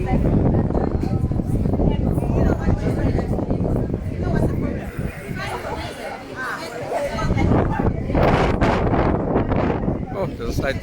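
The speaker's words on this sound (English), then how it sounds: "there's a slight breeze, but it's a gorgeous, windy day" Wind buffets a microphone outdoors on a breezy day in KwaZulu-Natal, a loud continuous rumbling roar with gusty swells, while people talk and a crowd murmurs nearby.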